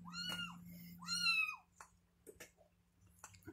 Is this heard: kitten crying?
yes